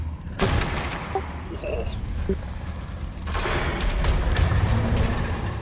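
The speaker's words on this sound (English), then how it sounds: "this is my ascendant rifle" Ascendant rifle gunfire in Ark Survival Ascended: a few sharp shots crack out over game ambience and mechanical clatter, with a player briefly exclaiming between them.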